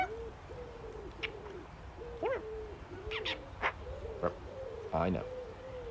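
A bird calls outdoors with a series of short, hooting, owl-like notes repeated at irregular intervals, close and clear over a quiet background, with a few brief sharper sounds between calls.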